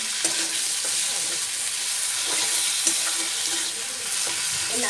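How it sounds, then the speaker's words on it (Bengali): Grated coconut fries in a pan for moong dal with flat beans, giving a steady close sizzle broken by scraping stirs throughout, with no talk. "নারকেল কোড়াটা একটু ভেজে নেব"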